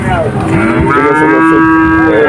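A cow or calf gives a loud, close, drawn-out moo at a village cattle market, the call rising and wavering with strong harmonics over a low background bustle.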